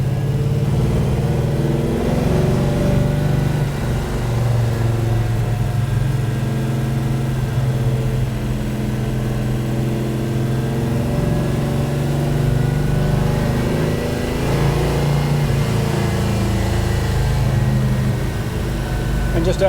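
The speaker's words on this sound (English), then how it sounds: "We're very proud of this little engine." A small car engine hums steadily and fairly loudly while the car is being driven, with a low droning tone that lasts throughout.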